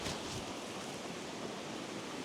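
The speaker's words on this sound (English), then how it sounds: "Come on up, Luna, no going over the waterfall." A steady, broadband rush of falling water from a waterfall in Glenariff Forest Park, heard fairly faintly and unbroken, with no talking.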